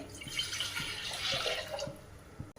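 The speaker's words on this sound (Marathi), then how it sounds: "प्रथम आपण ते तांदूळ स्वच्छ धुवून घेऊया" Water splashes and trickles as rice is rinsed clean before making tawa pulao, a soft continuous wash with faint rhythmic knocks underneath and no voices.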